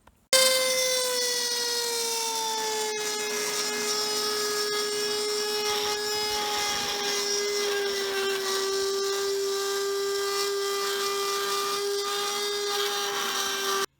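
A Dremel with a cutting blade slices through a molded fiberglass boat step, a steady high-pitched whine with strong harmonics that holds for nearly the whole stretch, close and loud, slowly dropping in pitch as it bites into the material.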